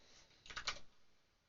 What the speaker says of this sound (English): Now we just type W